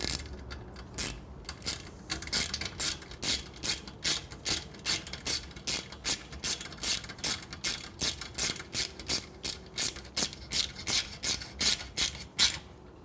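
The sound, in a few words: ratchet tightening a motorcycle exhaust heat shield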